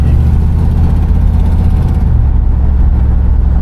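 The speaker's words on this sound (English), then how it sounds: "All I'm actually hearing is engine noise." A 1964 Buick Electra 225 engine pulls hard under acceleration, a steady loud low-pitched drone with rising rumble heard from inside the car during a test drive.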